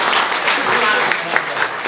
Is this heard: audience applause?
yes